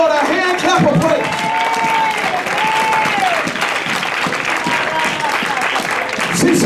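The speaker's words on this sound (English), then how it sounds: "Give the Lord a hand clap of praise" A church congregation claps loudly and continuously in praise, mixed with cheering and raised voices, the applause steady throughout.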